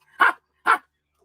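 A person imitates a dog with two short, sharp bark-like yelps spaced about half a second apart, close and clear against silence.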